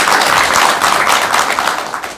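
Studio audience applause at a Korean Buddhist talk show, a dense, steady wash of clapping that holds loud for about two seconds before tapering slightly, with no voices over it.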